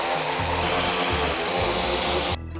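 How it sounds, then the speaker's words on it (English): A power tool works nonstop to remove bolts on a Lexus ES300h during a condenser replacement, a loud, close whirring drone with shifting pitch that cuts off abruptly near the end. "I'm gonna remove these 4 bolts right here."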